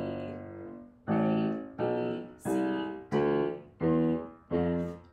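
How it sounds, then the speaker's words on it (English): Piano notes climbing the keyboard through the musical alphabet in a beginner lesson, seven firm struck notes in an even bouncing rhythm, each decaying before the next, played close and alone. "play the musical alphabet all the way up the keyboard"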